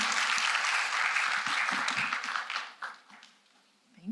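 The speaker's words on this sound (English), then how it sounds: "Let's get a round of applause for our first participant" An audience applauds a student presenter at a conference talk: dense, close clapping that holds steady, then thins to scattered claps and fades, with a few last claps at the very end.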